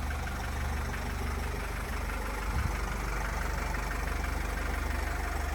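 The 2.0-litre diesel engine of a 2014 Opel Vivaro passenger van idles steadily with a low, even rumble and faint knocking, continuous throughout with no talking.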